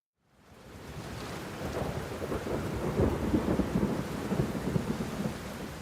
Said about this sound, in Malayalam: ചൂടിനാശ്വാസമായി സംസ്ഥാനത്ത് പലയിടങ്ങളിലും രാത്രി ശക്തമായ മഴ പെയ്തു